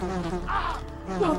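A swarm of bees attacks in a Resident Evil Director's Cut video game, giving a buzzing, droning insect hum that rises and falls in two swells over steady game sound.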